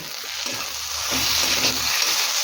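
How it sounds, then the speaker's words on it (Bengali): Spiced soybean mince filling with turmeric, salt and Kashmiri red chilli powder being stirred and mixed in a hot pan, a steady close sizzle with scraping of the spoon throughout, growing slightly louder midway, no voices. "সমস্ত কিছু ভালো করে সয়াবিনের কিমার সাথে মিশিয়ে নেব"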